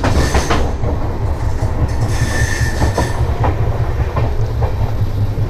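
A double-decker passenger train on the Jaipur to Delhi line runs loud and steady, its wheels drumming and clicking in repeating rhythm over the rail joints, heard close from inside a carriage.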